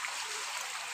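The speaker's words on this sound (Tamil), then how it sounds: "சாலையில் தண்ணி பெருக்கெடுத்து ஓடுகிறது." Floodwater rushing along a road in a flooded village near Thoothukudi, a brief, dense hiss of flowing water with no clear voices.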